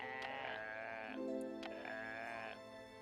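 A goat in the video game Once Upon a Rogue's Tale bleats in two drawn-out, wavering calls separated by a short pause, fairly quiet and alone.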